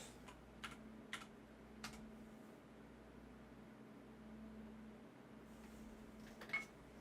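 Computer keyboard used to enter a redeem code, a few scattered, faint keystroke clicks in short bursts over a quiet room hum, with no talking.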